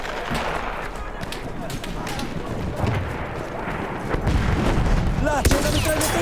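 Gunfire in the World War I shooter Battlefield 1, played as a sniper: sharp shots and booms crackle over dense, continuous battlefield noise, with a louder burst of firing toward the end.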